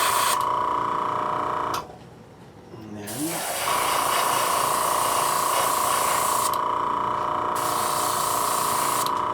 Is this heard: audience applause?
no